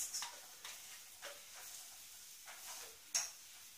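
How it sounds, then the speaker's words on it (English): Onions stirred in hot oil for Cameroonian fish rolls, giving a quiet, steady sizzle with soft scraping stirs at regular intervals and a brief sharper clink near the end. "when you stir your onions and oil for a little bit"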